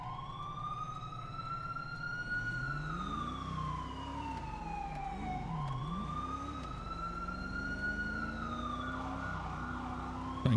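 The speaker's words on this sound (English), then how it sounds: "Trying to get away from the sound of that siren that's nonstop." A wailing emergency siren in a GTA 5 roleplay game sweeps up and down continuously and loudly over a low rumbling engine, with no talking.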